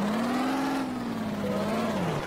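Diesel engine of a Ford F-14000 truck strains to pull away uphill, a loud, close, steady low drone that rises slightly then sags, alone without talk.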